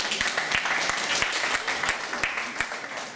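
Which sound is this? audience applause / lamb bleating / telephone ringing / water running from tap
audience applause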